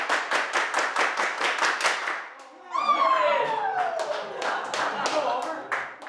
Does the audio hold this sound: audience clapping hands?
yes